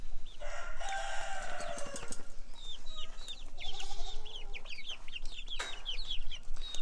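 Several young chicks of a blue-green egg-laying breed cluck and chirp continuously, with some higher calls mixed in, close by and fairly steady throughout, with no talking.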